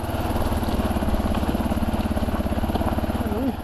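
An off-road vehicle's engine on Maverick Trail in Arizona, slowing on a descent, gives a steady, close, loud drone with a rapid pulsing throb throughout.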